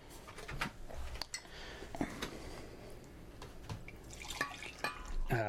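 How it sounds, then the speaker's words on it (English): Coffee pours from a Cabela's thermos in a close, trickling stream broken by small drips and clicks, continuing steadily for several seconds with no talking. "listen to that coffee pouring."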